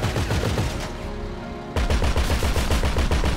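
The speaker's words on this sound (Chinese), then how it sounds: "前面跟上面的机枪塔可以射击。" Tank-mounted machine gun turrets firing in a GTA5 zombie mod, rapid sustained bursts of automatic gunfire with a brief pause before a renewed steady volley, loud and close.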